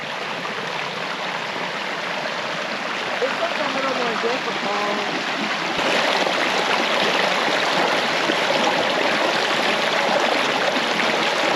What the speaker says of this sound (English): Have a third stream to cross.